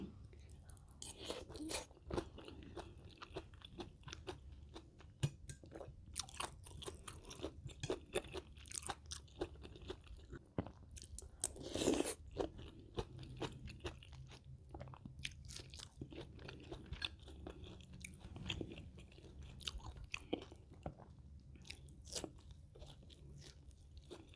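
Crunchy fried pork being chewed up close, with repeated crisp bites and crunching at an uneven rhythm, quiet overall with a brief louder crunch midway and occasional soft voice.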